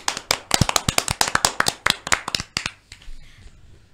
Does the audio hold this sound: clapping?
yes